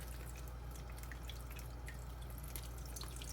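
Chanterelle mushrooms are rinsed under a running tap, a faint steady wash of water with scattered light drips and splashes over a low background hum.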